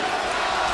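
Boxing arena crowd of Gatti's fans roaring steadily to rally him in the 4th round, a dense, loud, continuous cheer with no break.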